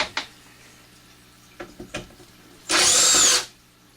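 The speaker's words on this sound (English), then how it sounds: "I also like this little rattle gun." A small impact driver, or rattle gun, fires one loud whirring burst lasting under a second, after a few light clicks and knocks of handling.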